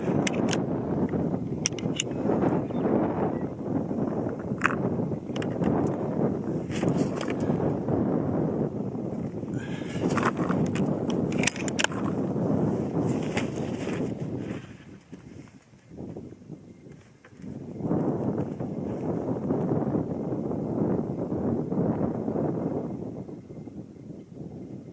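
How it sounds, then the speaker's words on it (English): Wind gusting at around 15 miles an hour at an outdoor rifle range: steady broadband rushing and microphone buffeting that drops away briefly near the middle and then returns, loud and close throughout. "wind kicked up to about 15 miles an hour"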